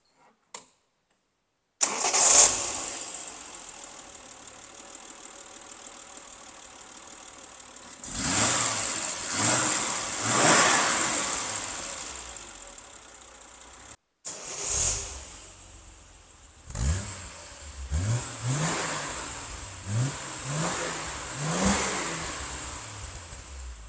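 A 1972 Triumph 2000 MK2 saloon cranks and fires with a loud whine, idles, then is revved in a string of short blips, separated by a brief silence, close and with no talk.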